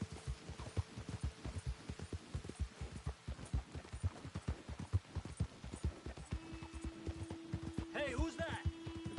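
Horse hooves gallop in a rapid, rhythmic clip-clop throughout a ride in Red Dead Redemption 2, fairly faint, with a low hum and brief voices toward the end.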